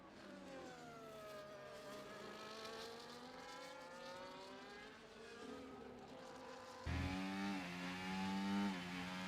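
Race car engine in a Mexico enduro racing video game, revving high with rising and falling gear shifts, a steady loud drone that jumps louder and deeper near the end.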